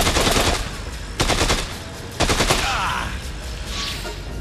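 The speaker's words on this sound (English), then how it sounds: "And pick up a gun. And shoot the propane tank." Loud gunfire in the video game Dead Rising 2 comes in three close bursts as a propane tank is shot, each burst a rapid crackle of shots with brief pauses between, then fading noise.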